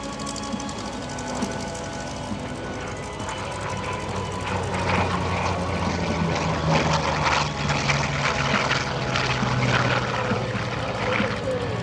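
Propeller-driven F4U Corsair fighter at an airshow, its piston engine drone steady and loud, swelling a little as the plane nears and passes without fading away.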